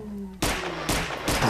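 Shotgun blasts in a Half-Life mod of Resident Evil 2: three loud, sharp shots about half a second apart, following a steady low hum.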